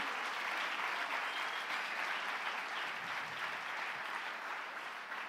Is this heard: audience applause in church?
yes